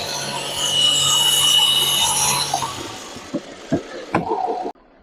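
A VEVOR 13500 lb winch on a Land Rover Discovery 4 grinds and whirs loudly as it pulls the vehicle through easy terrain, then fades into a few knocks and clunks before stopping abruptly.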